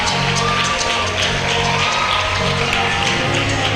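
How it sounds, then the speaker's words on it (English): Sustained audience clapping with scattered cheers and whoops at the 2024 JCI Nigeria TOYP/IYD event, a dense, even roar of hands from a large crowd throughout. "Please, let's keep clapping."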